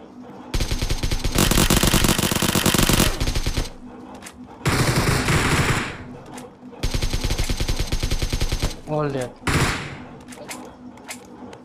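Loud automatic gunfire in the mobile game BGMI comes in long rapid bursts separated by brief gaps, with players talking over the shooting.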